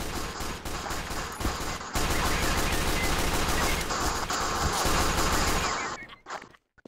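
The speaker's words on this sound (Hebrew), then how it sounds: "לאנג'יניר יש אקדח מהיר כמו של הסקאוט" The Engineer's pistol in Team Fortress 2 fires a rapid, continuous stream of close, crisp gunshots for about six seconds, then cuts off into brief quiet.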